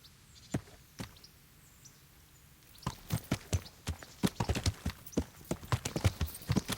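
Hollow horse hoof clip-clops in the video game Kingdom Come: Deliverance, a couple of isolated steps and then a steady walking rhythm growing busier, close and fairly clear over a quiet background.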